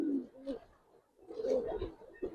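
Giribaz pigeons, silver khaki sabchila birds, give soft low cooing calls in two short bursts with a brief pause between, fairly close.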